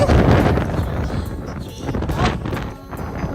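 Gusty wind buffets the microphone outdoors at a seaside rock, a loud low rumbling roar that surges and dips, with faint voices underneath.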